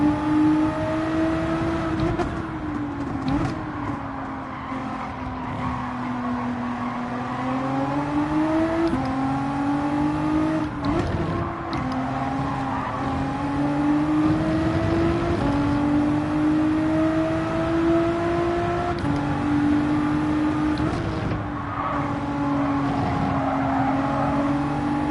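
A race car engine in Gran Turismo 7 on the Atlanta circuit drones steadily, its pitch climbing and dropping through repeated gear shifts and revs across a long continuous run, with brief dips between pulls.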